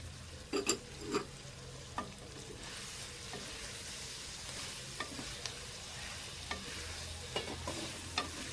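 Chicken jalfrezi with sliced tomatoes and two green chillies being stirred in a pan, with scattered scraping and clattering strokes over a steady frying sizzle, close and moderately loud, no talking.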